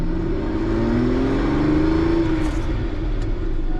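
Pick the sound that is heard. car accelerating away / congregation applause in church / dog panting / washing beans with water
car accelerating away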